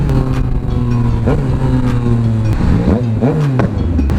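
A loud Yamaha Tracer 900 motorcycle engine drones and revs nearby, its pitch rising and falling in uneven bursts over a constant rumbling roar.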